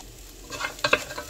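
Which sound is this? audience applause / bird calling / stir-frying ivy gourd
stir-frying ivy gourd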